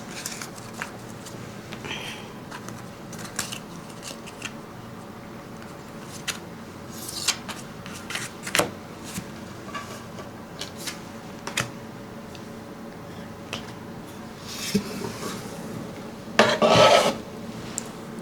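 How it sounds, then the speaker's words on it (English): Tarot cards from a Chinese Cuisine themed deck are mixed by hand, giving a steady soft rasping and rubbing with scattered sharper flicks, ending in a louder burst of card noise near the end; no talking. "Mess up the order of some of the cards."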